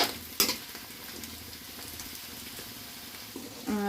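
Food sizzles quietly in a frying pan while it is stirred, with a soft steady hiss broken by a sharp clank of the utensil against the pan near the start and another at the end.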